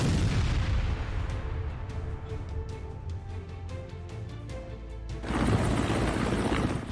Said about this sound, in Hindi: बीच गंगा में धमाका